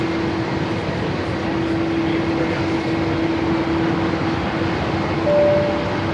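Dash 8 turboprop arriving at Melbourne Airport, a continuous distant engine drone with a steady propeller hum tone, swelling slightly near the end, no talk.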